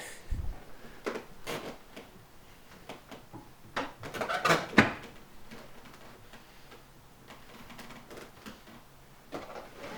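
Irregular creaks and ticking clicks from a C5 Corvette's seat come in scattered bursts, close and fairly faint, with a sharper cluster of squeaks midway.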